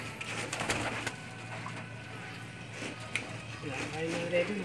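Racing pigeons cooing softly in a loft after returning from a race, low steady coos under a constant background hum with occasional wooden knocks and people talking nearby.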